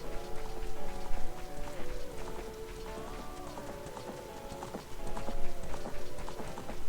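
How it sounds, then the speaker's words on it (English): Horse hooves clip-clop steadily in The Legend of Zelda: Ocarina of Time, a loud, regular trotting rhythm over game music, with a brief lull midway before the hoofbeats pick up again. "Is this horse gonna follow me?"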